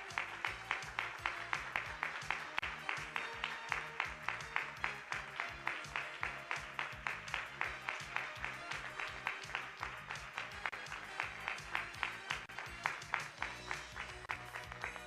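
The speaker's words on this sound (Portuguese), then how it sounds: "Palmas para ela." Applause breaks out for the woman who won the motorcycle raffle at a sanctuary in Jacareí, a steady, rhythmic clapping that carries on without a break for the full stretch at moderate level.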